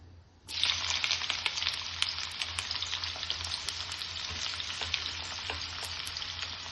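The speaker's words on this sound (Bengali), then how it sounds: "এখানে আমি একটা কড়াই বসিয়ে দিয়েছিলাম, তেল অল্প দিয়ে দিয়েছি, মোটামুটি গরম হয়ে গেছে। চলো এবার পেঁয়াজ কুচিটা দিয়ে দিচ্ছি।" Chopped onion hits hot oil in a kadai and starts frying with a sudden loud sizzle, then a steady crackling hiss with scattered pops, close up and with no talk.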